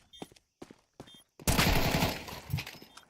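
First-person shooter esports match, with a few sharp, separate gunshots followed by a sudden loud burst of rapid, continuous gunfire and impacts up close.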